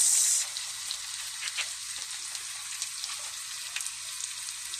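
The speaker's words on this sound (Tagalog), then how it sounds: "ilagay na yung bawang sibuyas." Garlic and onion hit hot oil in a pan for chicken adobo, producing a steady, close, crackling sizzle that carries on evenly with small pops throughout, and no talking.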